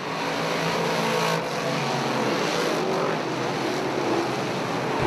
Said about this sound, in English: Young and Brightville battling into the corner.